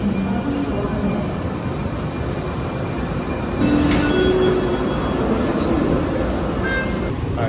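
Steady rumble and rattle of a nearly empty commuter train riding through San Francisco on a weekday morning, continuous and close, with a louder surge midway and faint squeals over the rolling noise.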